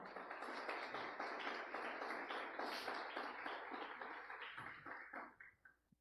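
A prayer-group congregation at a Pentecost novena applauds in a steady, dense round of clapping from many hands, fairly distant and faint, trailing off after about five seconds.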